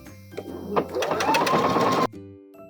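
Sewing machine stitching a lace band onto a bralette: the motor whirs up into a quick continuous run of stitches for about a second and a half, then stops abruptly, close by.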